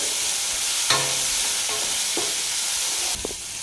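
Tomatoes with turmeric, chili and coriander powder stirred in a hot pan, a constant loud sizzle with occasional spoon scrapes and taps against the metal.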